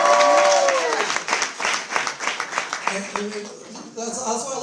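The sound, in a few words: audience applause for a prize winner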